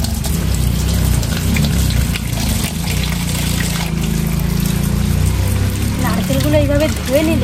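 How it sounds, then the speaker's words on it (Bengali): Running water splashes and trickles steadily while large coconuts are washed. A voice is heard briefly near the end. "এই নারকেলগুলো আগে আমি ধুয়ে নেব।"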